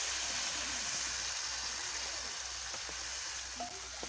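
Water poured into a cooking pan of spiced fish curry with chilli powder and salt, a steady rushing splash close by that holds evenly throughout with no talking.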